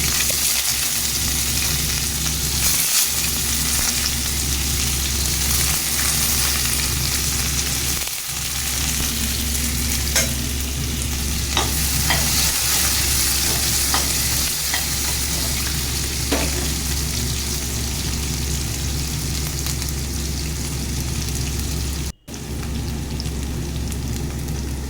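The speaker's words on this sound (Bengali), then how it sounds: "এখানে পাঁচফোড়ন আর তেজপাতা দিয়ে আলুটা ভেজে নিচ্ছি বন্ধুরা।" Potatoes frying with panch phoron and bay leaf, a steady loud sizzle that runs without a break for the whole stretch, close by, with a brief dropout near the end and no voices.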